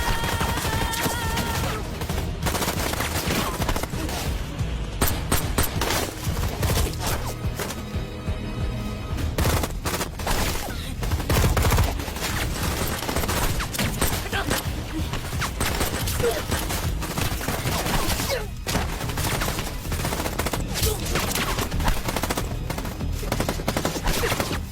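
Rifle fire rattles through an action film rampage in dense, rapid bursts and sharp cracks, loud and continuous, with occasional louder booms and a soundtrack underneath.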